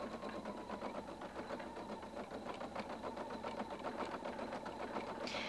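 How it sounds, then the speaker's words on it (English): A Husqvarna Viking Designer 1 embroidery machine stitching at speed, a steady, fast mechanical rattle of needle strokes, close and continuous, with no voices. "Your Husqvarna Viking embroiders up to 700 stitches per minute."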